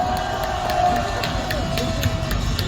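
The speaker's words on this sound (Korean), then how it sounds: "우리 뜨거운 박수 한번 부탁드리겠습니다" A large outdoor rally crowd claps and cheers, a continuous dense roar with scattered sharp claps and whoops under a faint amplified voice.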